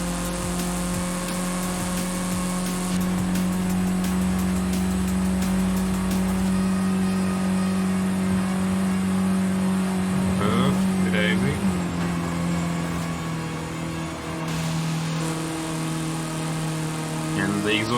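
A car engine with an upgraded exhaust in Forza Horizon 5 drones steadily and revs up midway, a continuous loud hum with rising pitch, with a person talking over it.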